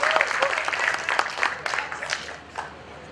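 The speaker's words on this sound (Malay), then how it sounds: "orang tepuk tangan dengan paling kuat tau" An audience in a Malaysian hall claps loudly to welcome arriving university students, a dense burst of applause that thins toward the end.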